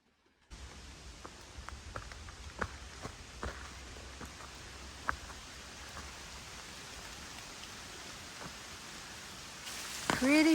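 Steady rain falls on a flooded hiking trail in Vermont where water runs like a stream, a dense even hiss with scattered close drop ticks and a louder rush near the end.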